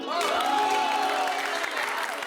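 Studio audience applause during a scene from the Hindi TV sitcom Taarak Mehta Ka Ooltah Chashmah, a steady wash of clapping with some crowd noise and a faint tonal element running through it.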